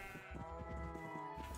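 Sheep in the Minecraft video game bleat in a short series of wavering, nasal calls that repeat rhythmically over a low background hum, close and clear with no talking.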